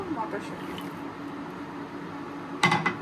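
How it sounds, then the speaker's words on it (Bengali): Dry pasta tipped into a pot of boiling water for a pea and noodle dish, giving a short, close splash and clatter near the end over a steady low kitchen hum. "সিদ্ধতে প্রথমে দিয়ে দিলাম পাস্তা"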